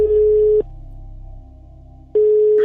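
A telephone line tone sounds loud and steady, a single held tone that breaks off briefly and then resumes, like a busy or ringing signal on a phone call.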